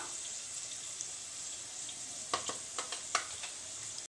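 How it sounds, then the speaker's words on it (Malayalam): Onions frying in oil in a pan give a steady close sizzle, broken by a few light clicks and scrapes of stirring, with no talking. "ഞാൻ ഓയിൽ ഒഴിച്ചു കൊടുത്തിട്ടുണ്ട് ഇതിലേക്ക് സവാള ഇട്ട് കൊടുക്കാം"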